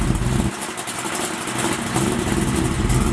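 A Buick Regal with a small-block engine idles outdoors with a steady, rough, loud rumble that holds even for about three seconds, with no talking.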